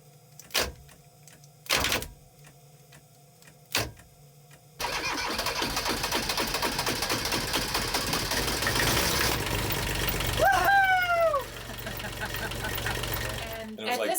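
A sailboat's engine, jump-started with a 600-amp starter, cranks in a few separate bursts, then catches and runs steadily, loud and rough, with a rising whine and a brief tonal squeal partway through.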